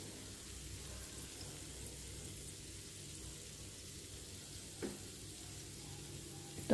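Pork belly deep-frying in a pan for lechon kawali, giving a steady, faint, rain-like sizzle that runs throughout, with one small pop near the end.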